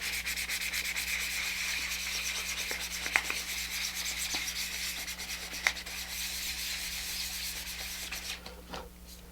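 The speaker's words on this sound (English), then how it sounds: "I'm going to go ahead and sand" Steady hand sanding with 320 grit sandpaper on the upper side of a model rocket kit part, a continuous close rasping rub that runs unbroken for several seconds with a couple of faint taps, no talking.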